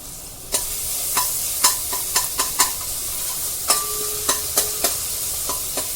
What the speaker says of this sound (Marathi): पेस्ट तेलामध्ये व्यवस्थित परतून घ्यायची आहे